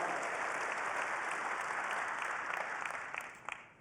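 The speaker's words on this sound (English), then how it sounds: "Big round of applause for Patrick." Audience applause at the Cisco Live 2026 day 2 keynote in Las Vegas, a dense, steady wash of clapping from a large crowd that holds for about three seconds, then thins out into a few scattered claps.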